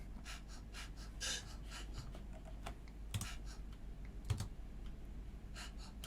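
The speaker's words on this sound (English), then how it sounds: "it's really just breathing, like a human breathing effect that accentuates the rhythm" Rhythmic, breathy percussive puffs of a human breathing effect used as a beat in the production of Dua Lipa's "Don't Start Now", repeating steadily, quiet and without any talking.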